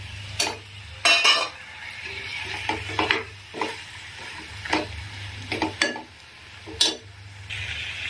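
Chopped tomatoes tumble into a pan of goat head curry and get stirred in, giving a run of close scraping and clinking spoon-on-pot strokes over a soft steady sizzle, with no one talking.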